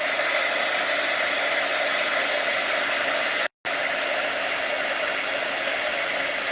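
A heat tool blows hot air over stamped paper on a silicone craft mat, a loud, steady, close rushing hum that cuts out for a split second and resumes.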